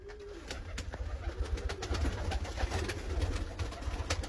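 Tumbler pigeons, black with white beaks, coo softly in low throaty pulses, close by, among the rustle and clatter of a busy loft.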